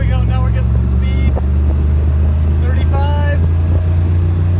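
A Ford Galaxie accelerating toward 60 mph, its engine a steady loud low drone heard from inside the cabin, with voices speaking over it throughout.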